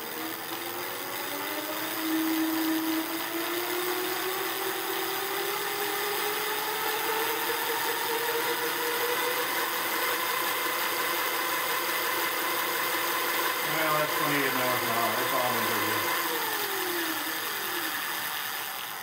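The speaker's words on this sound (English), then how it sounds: "here it is winding up to about 28 miles an hour without being under load" An Ariel Rider Kepler e-bike hub motor spins up with no load toward about 28 mph, giving a steady close whine that climbs slowly in pitch and then winds back down, with no talking.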